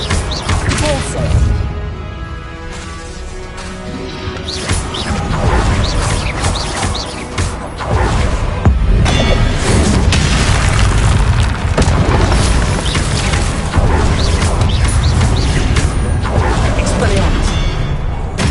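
Repulsor spell impacts in the Hogwarts Legacy video game, loud booming blasts and thuds that come in dense succession over a constant roar of combat effects, with a voice calling out between them.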